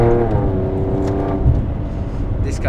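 Alfa Romeo Stelvio Quadrifoglio SUV engine, close and loud, a sustained roar with a pitch change through a shift, while a person talks over it.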